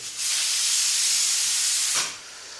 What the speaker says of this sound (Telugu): cooker sound